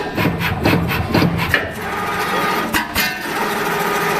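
A DBX S140 cutting machine feeds material with a close, steady mechanical whir and rubbing, with a few sharper knocks partway through and no one talking.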